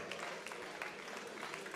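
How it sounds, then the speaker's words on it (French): Applause from spectators at a Swiss Eurobot robotics contest, a faint, steady brief patter of clapping from a crowd. "On peut les applaudir très fort"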